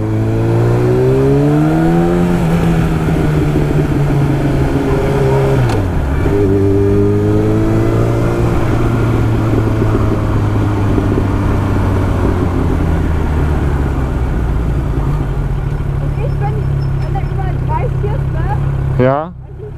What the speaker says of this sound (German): Ich kann die ganze Zeit im ersten fahren und Lärm machen